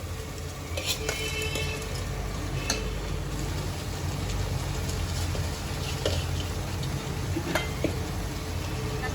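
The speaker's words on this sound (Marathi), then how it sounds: "आता यात आपण जे तांदूळ भिजत घातलेले ते घालून घेते" Soaked rice added to a Goan-style prawn pulao frying in a pan: an even, continuous sizzle with scattered sharp clicks and scrapes, steady and fairly close throughout.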